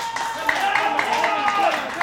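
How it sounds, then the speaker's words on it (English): Wrestling arena crowd clapping in a steady rhythmic beat, roughly four claps per second, with a sustained tone and crowd noise underneath. "The crowd's now getting into this."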